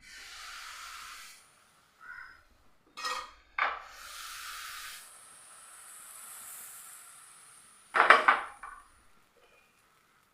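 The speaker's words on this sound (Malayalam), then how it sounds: "ഇനി നമുക്കിതിലേക്ക് ഒരു തവി മാവ് ഒഴിച്ചിട്ട് ജസ്റ്റ് ഒന്ന് ചുറ്റിച്ചെടുക്കാം" Appam batter with onion swirled in a hot pan, giving a soft steady hiss with a few sharp metallic clinks and scrapes, then a louder clatter near the end.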